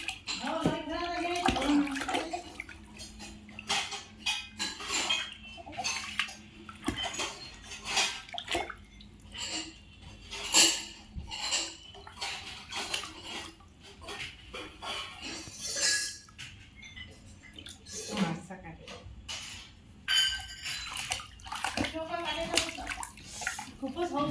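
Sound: water pouring during a baby's bath

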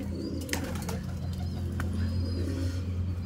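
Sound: pigeons cooing

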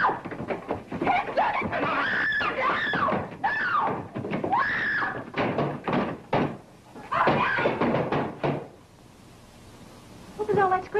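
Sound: women screaming in a fight

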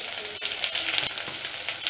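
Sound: vegetables cooking in a pan for poha

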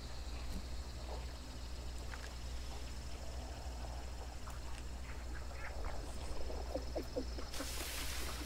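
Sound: ducks quacking in Hunt: Showdown video game

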